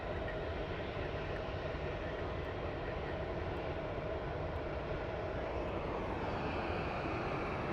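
A jet airliner departing Phoenix Sky Harbor International Airport, a constant loud roaring engine rumble with broad hiss that holds steady throughout, heard from a distance across the airfield with no voices.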